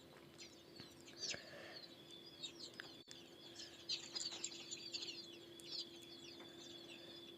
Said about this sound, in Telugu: ఇవి చిన్న కోడి పిల్లలు.